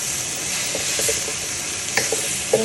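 Tofu and vegetables sizzle steadily in a hot wok with light oil, a continuous bright frying hiss broken by a few soft scrapes and clacks of stirring near the end.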